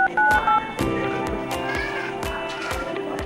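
A telephone number is dialed: a few short keypad tones beep at the start, followed by regular thumping beats and rustling.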